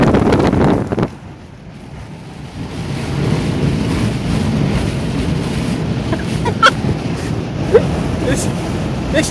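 Strong storm wind from Storm Jonas in Wales roars and buffets against the microphone in a steady, loud rush with gusty surges, while a voice talks over it.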